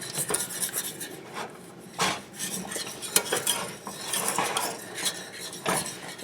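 A utensil stirs thick blueberry pie filling in a pot on the stove with continuous scraping and clinking against the metal, steady and close throughout.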